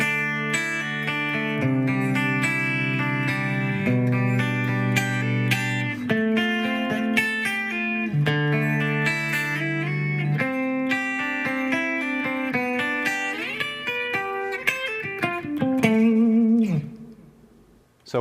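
Electric guitar plays a pop-rock/metal solo through effects, mostly sticking to chord tones with scalar runs, double stops and passing-tone decorations over a steady backing. It runs loud and continuous and fades at the end.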